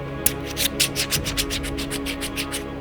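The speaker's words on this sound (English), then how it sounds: "The casing is made of metal, you can hear it." A metal microphone casing from a Maono budget mic is handled and rubbed, giving a quick series of rhythmic scraping, brushing strokes close up, with no talking.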